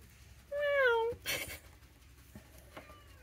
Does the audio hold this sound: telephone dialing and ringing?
no